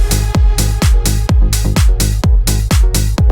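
A progressive house mix sets a unison sawtooth glide synth with portamento against a heavy four-on-the-floor kick. Loud, pumping, evenly spaced thumps come roughly twice a second under the sustained, sidechained synth chords.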